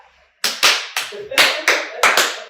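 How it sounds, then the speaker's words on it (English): Clapping in an audience setting, about eight sharp, separate claps in an uneven, unhurried rhythm after a brief quiet start, close and loud. "Slow clap."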